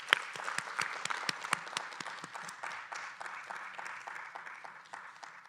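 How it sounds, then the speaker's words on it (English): An audience at a regional symposium closing session applauds its speakers and moderator, a steady wash of many hands clapping for several seconds with a few sharper individual claps standing out near the start, no voices on top. "Let's give our speakers and our moderator another round of applause."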